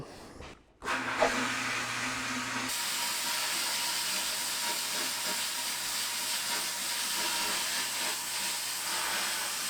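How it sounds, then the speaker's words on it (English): Abrasive blasting of a cast aluminum intake manifold during engine restoration: a loud, steady, broadband hiss of blast media that starts abruptly near the beginning and runs continuously without a break. "when you're blasting cast aluminum, make sure you keep your blast gun back and make sure you also keep it moving"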